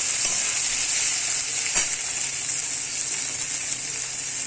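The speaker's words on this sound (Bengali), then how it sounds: "এবার টমেটো কুচিটাও দিয়ে দিলাম, দিয়ে ভালো করে কষিয়ে নেব।" Chopped tomatoes frying in a pan for a fish curry masala, with a steady loud hiss and crackle close by and an occasional faint stirring scrape, and no voices.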